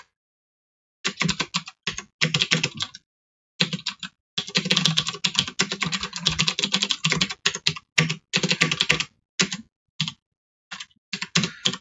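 Fingers type on a computer keyboard at a desk: close, crisp keystroke clatter in irregular bursts and runs, broken by short pauses, with no talking.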